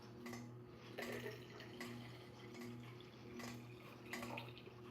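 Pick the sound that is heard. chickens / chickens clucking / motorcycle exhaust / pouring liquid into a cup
pouring liquid into a cup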